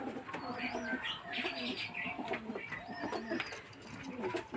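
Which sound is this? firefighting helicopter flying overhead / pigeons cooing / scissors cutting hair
pigeons cooing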